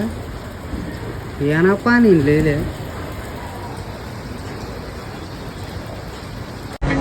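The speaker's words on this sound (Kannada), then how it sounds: "ಮಳೆ ಕಂಟಿನ್ಯೂಸ್ ಆಗಿ ಬರ್ತಾನೆ ಇದೆ" Steady rain falls outdoors in Bangalore, a constant soft hiss running through the whole stretch while a person speaks briefly near the start.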